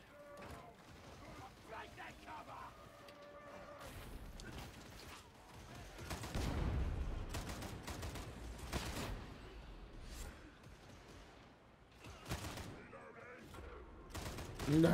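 Heavy gunners firing machine guns in the video game Warhammer 40k Darktide, rattling bursts and clanking mechanical noise, fairly faint and distant, with talk mixed in.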